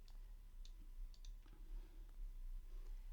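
A mouse click sending a request in Postman on a computer, a few soft, faint clicks against a low, steady room hum.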